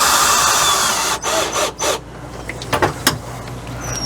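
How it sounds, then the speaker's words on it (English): Screws driven in to mount a Thetford macerator pump into its bracket: a close, steady power-driver whir that breaks off, then a few short bursts and clicks of handling. "Now we have to screw the whole pump into this bracket down here."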